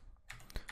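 A brief burst of typing on a computer keyboard: a few quick, soft key clicks heard close and quiet, with no talking.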